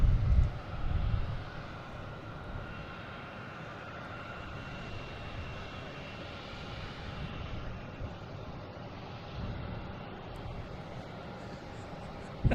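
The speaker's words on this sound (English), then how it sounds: "that JetBlue is backing out that I was wondering about" A JetBlue airliner pushing back from the gate at Boston Logan gives off a steady, moderate engine drone that holds evenly throughout, with a brief low rumble near the start.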